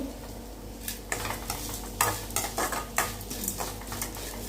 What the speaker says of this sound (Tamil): இந்த ஸ்டேஜில் நம்ம திரி வச்ச தேங்காய் நல்லா ஃப்ரை ஆகும்